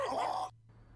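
A dog lets out a brief vocal yowl on request, a single rising-and-falling whine up close that cuts off abruptly into quiet.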